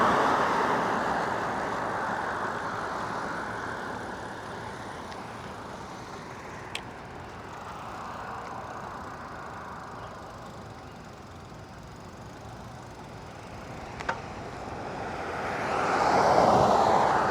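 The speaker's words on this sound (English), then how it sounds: "Oh, lots of traffic." Road traffic heard from an e-bike: a continuous broad rush of passing vehicles and roadway noise, fading mid-way then swelling as a vehicle comes close near the end, with a couple of sharp clicks.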